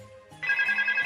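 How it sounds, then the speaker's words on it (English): A mobile phone ringtone starts ringing partway through, a bright electronic tone that is fairly faint and pulses in short repeats, heard alone with no talking. "I hear a phone ringing."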